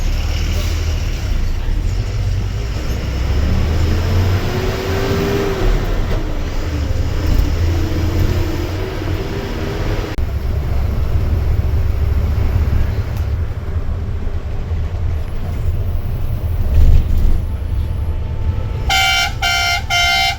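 An SBSTC bus engine runs with a loud, steady low rumble on the Jhargram to Kolkata route, and a short horn blast sounds near the end.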